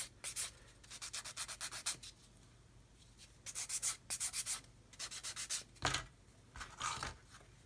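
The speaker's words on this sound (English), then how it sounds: "so I'm going to sand it a little bit more." Sandpaper rubbed over part of a plastic model kit build, quick rhythmic back-and-forth strokes in several runs with brief gaps and a couple of handling knocks, close and quiet, no one talking.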